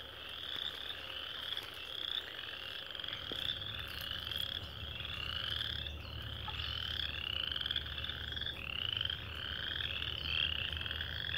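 A dense chorus of chorus frogs, wood frogs and spring peepers calling together at a vernal pool in March, with rasping comb-like trills, duck-like croaks and high peeps overlapping continuously, steady and moderately loud.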